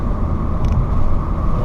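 Ford C-Max hybrid driving with its gasoline engine running, a steady loud low rumble of engine and road noise throughout.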